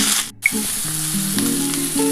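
Potatoes, eggplant and beans sizzle steadily in a hot pan, a continuous bright frying hiss with a brief dip near the start, close and fairly loud with no voices.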